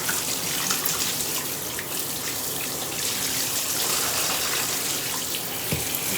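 Running water from a tap rinsing a dog during a bath, a continuous steady hissing spray at close range, no talk.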